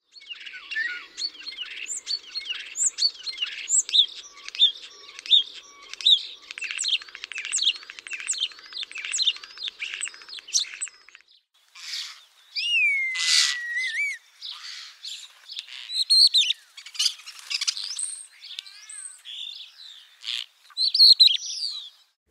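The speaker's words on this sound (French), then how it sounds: "En termes d'oiseaux étonnants, j'aimerais vous présenter les tourneaux sansonnés." A common starling sings in a park or garden, a rambling stream of clicks, rattles, whistles and a rising-and-falling slurred whistle, moderately close with brief pauses and no voices.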